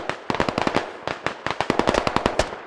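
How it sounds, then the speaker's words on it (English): Gunfire in SquadOps, a rapid run of sharp shots in quick irregular bursts, close and loud, with short pauses between volleys and no talk. "And shots coming in now."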